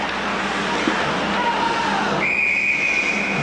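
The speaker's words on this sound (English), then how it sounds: "Whistle. And frozen puck." A referee's whistle at a high school ice hockey game, a thin steady tone near the middle of the clip followed by a louder, higher sustained blast, both over constant rink noise.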